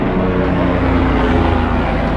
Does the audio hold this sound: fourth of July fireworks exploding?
no